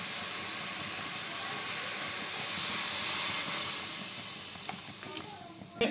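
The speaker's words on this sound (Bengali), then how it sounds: "এইবার আমি দুধটা এই লাউয়ের ভিতর ঢেলে দেবো" Thickened milk is poured over bottle gourd in a hot pot for payesh, raising a steady hiss of steam and sizzle that swells and then fades, with a few light knocks at the end.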